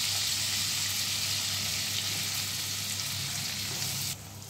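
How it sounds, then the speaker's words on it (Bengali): Onions frying in a pan for a paneer butter masala, a steady loud sizzle and crackle that runs continuously, then drops sharply near the end as the heat or lid changes; no talking. "পেঁয়াজটা একটু ভেজে নেব"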